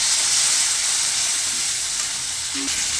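A spice paste with chopped tomato, chili and salt fries in a pan with a splash of water, giving a strong continuous sizzle and hiss, close-up and with no voices.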